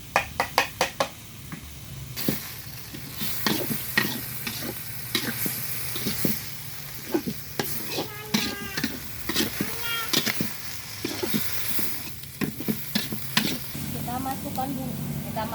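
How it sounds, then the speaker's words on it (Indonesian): Papaya flowers and combrang flowers stirred into a hot pan, sizzling steadily while a utensil knocks and scrapes in quick irregular bursts, close and clear, with someone talking between the strokes. "Kita masukkan bunga pepayanya, kita masukkan bunga combrang."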